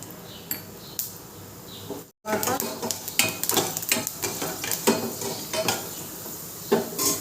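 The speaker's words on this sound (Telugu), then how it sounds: "వేసుకొని తర్వాత వేసుకోవడానికి కావాల్సిన పోపు దినుసులు అన్నీ వేసుకుందాం" Mustard seeds and other tempering spices crackle and sizzle in hot oil in a pan for rice-rava upma, with scattered sharp pops and utensil clinks over a steady frying hiss, briefly cut silent midway.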